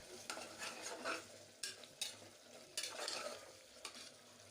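Mint masala and spices, with salt and chili powder, fry in oil in a pan as they are stirred. Steady sizzling runs throughout, broken by several scraping stirs, with no talking.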